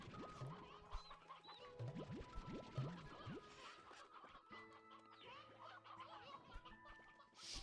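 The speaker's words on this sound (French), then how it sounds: "Plein de poules." Chickens in the video game Slime Rancher 2 cluck and squawk in short repeated bursts, mixed with other chirpy game creature sounds and a steady background hum.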